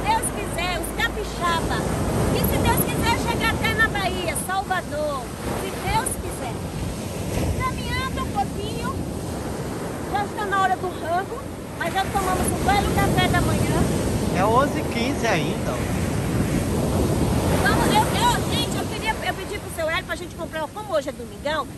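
Surf rolls and breaks on the beach at Macaé on the Rio de Janeiro coast, a broad, rushing swell with heavy wind buffeting the microphone, while people chat and laugh nearby throughout.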